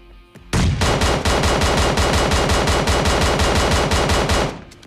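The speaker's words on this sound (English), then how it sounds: "So here you can see the bipod is on the QBU and we're gonna fire with the bipod on" A QBU designated marksman rifle fires with its bipod deployed in PUBG, a loud rapid run of roughly twenty-five evenly spaced sharp shots over about four seconds, alone with no talk.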